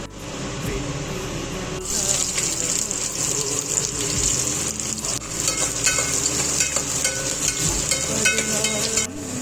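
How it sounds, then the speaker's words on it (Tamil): Fresh coconut being worked to extract coconut milk for a children's coconut milk rice, giving a steady, loud watery gushing and churning that runs throughout without pause. "இப்போ நம்ம இந்த தேங்காயில் தேங்காய் பால் எடுத்துக்கலாம்."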